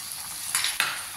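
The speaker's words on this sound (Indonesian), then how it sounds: "Aduk-aduk ya, biar menyusut kuahnya ya" A spoon stirs beef stew as its broth reduces in a pan, giving a soft simmering bubble with two brief scraping clatters of utensil against the pan and no talk.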